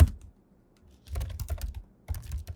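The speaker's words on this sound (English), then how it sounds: "So I'm going to hit Control X, hit Y, hit Enter" Keys typed on a computer keyboard while working in a server terminal: a short burst of close, crisp clicks, a pause, then another quick flurry of keystrokes.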